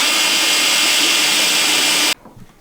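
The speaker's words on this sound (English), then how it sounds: "And drill." A power drill boring bolt holes through a bumper on a 2024 Ski-Doo Summit Gen 5 snowmobile, a loud steady whine for about two seconds that cuts off abruptly, followed by quiet handling sounds.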